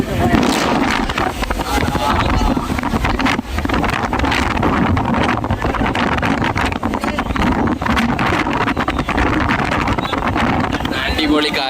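Loud, steady wind buffets the microphone throughout, a constant roaring rush with a rumbling, moving-vehicle quality underneath.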